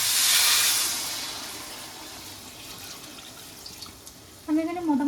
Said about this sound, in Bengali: এখানে চালের ডবল জল আমি দিয়ে দিচ্ছি